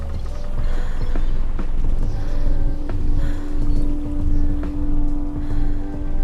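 Swan boat ride in the horror video game The Park, gliding along with a steady mechanical drone, creaks and occasional soft bumps, loud and continuous throughout with no talking.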